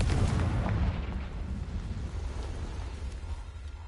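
A Confringo blasting spell in the video game Hogwarts Legacy: a heavy booming explosion with a deep rumble that rolls on and slowly fades, loud and close.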